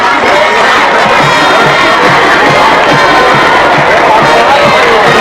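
A packed crowd cheers and shouts at a Friday night high school football game, a loud, continuous roar of many voices with rhythmic chanting pulses underneath.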